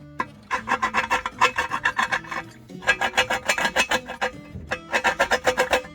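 Repeated rasping bursts of an oversized drill bit chamfering a painted edge on a transmission pan, coming in rhythmic strokes with short pauses, close and fairly loud.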